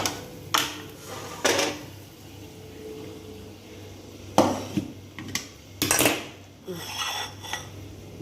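A pot of mourola fish chachchari with vegetable stalks, a Bengali fish curry, is lifted off a kitchen stove. Close metallic clanks and scrapes of the pot and lid come in scattered knocks over a low background hum.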